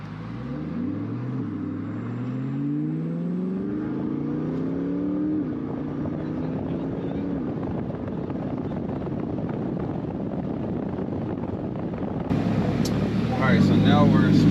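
A C8 Corvette makes a full-throttle pull, its engine note climbing steadily in pitch through the gears with brief dips at each shift. Heavy rumble and wind noise continue throughout, and the sound grows louder and harsher near the end.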